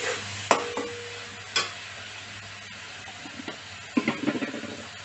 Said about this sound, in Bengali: এর মধ্যে আগে থেকে ধুয়ে রাখা শুটকি এর মধ্যে দিয়ে দেবো